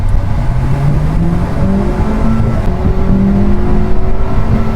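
A 2024 Hyundai Venue Knight Edition SX with the 1.2-litre naturally aspirated engine, parked on an incline with the AC on, is revved toward redline, its engine note climbing in rising sweeps over a steady rumble.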